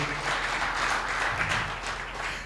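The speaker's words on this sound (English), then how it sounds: "Let's appreciate them with an applause" Audience at a food-crises report launch event applauds the speakers, a steady full burst of clapping in a hall that tapers slightly near the end.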